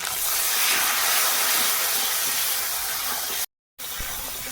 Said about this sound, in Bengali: একটু জল দিয়ে দেবো